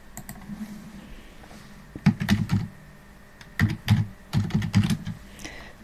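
A computer keyboard is tapped in quick runs of keystrokes while text is typed into a Canva design, with close, moderately loud clicking in several bursts separated by short pauses, and no talking.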